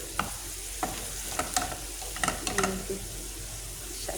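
Radish greens fry in a pan with a soft continuous sizzle, broken by occasional clinks and scrapes as they are stirred.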